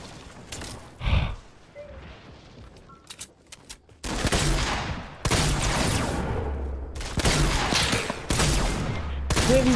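Video game gunfire: a few scattered shots at first, then heavy sustained bursts of rapid fire that come close and loud in repeated volleys.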